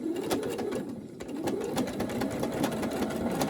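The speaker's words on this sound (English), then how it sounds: "we're just going to sew that down the middle" A sewing machine runs steadily, stitching a decorative pattern of leaves and flowers down the center of a fabric scrap roll. The rapid mechanical chatter is close and continuous for a few seconds.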